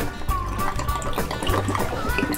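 A thin trickle of water runs from a Spectra watermaker being rebuilt on a sailboat, with the seals brittle. It makes a faint continuous liquid patter over a low mechanical hum, with small clicks.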